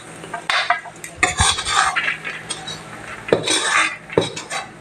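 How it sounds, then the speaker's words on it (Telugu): Snacks tipped and scraped into a dish, with clattering dish and utensil knocks in a few bursts, fairly close and loud, and no talking. "ఇప్పుడు ఒక డిష్లో వేస్తున్నానండి."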